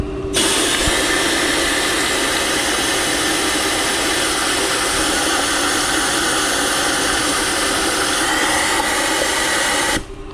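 Air blows debris out of a Sierra truck's chassis rail, a loud, constant rushing hiss that holds steady for about ten seconds with no break, then cuts off abruptly.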